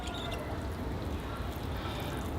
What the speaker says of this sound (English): And then I'll water the tree thoroughly.